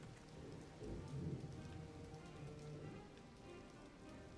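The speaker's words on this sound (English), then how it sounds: "it rains in Redmane Castle" Rain falls steadily on the grounds of Redmane Castle in a video game, a soft, even patter with a low rumble swelling briefly near the start and no talking.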